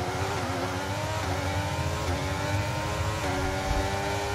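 A Formula 1 car engine in the racing game F1 23 holds high revs in a steady, loud drone with slight pitch wobbles, continuous throughout and with no other sounds.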